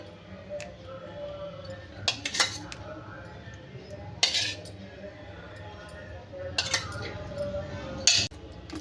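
A spoon mixing curd rice with salt, curd and tempering in a vessel, scattered metallic clinks and scrapes against the pot at irregular intervals over a soft background, with faint talk in between.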